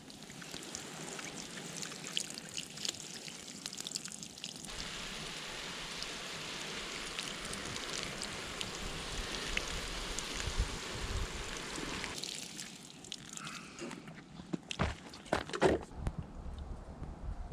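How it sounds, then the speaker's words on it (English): Water pours from a can onto a plant in a Tokyo garden allotment, a faint, steady splashing and trickling that runs for several seconds, then tapers into a few scattered drips and rustles. "I think this needs water. Let's give it some water."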